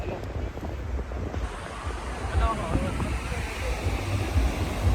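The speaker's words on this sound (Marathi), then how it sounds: "हा समुद्र आहे हा वॅगाडॉर गोवा" Sea surf at Vagator Beach, Goa, a continuous rushing wash of waves mixed with buffeting wind noise on the microphone, with a voice speaking over it throughout.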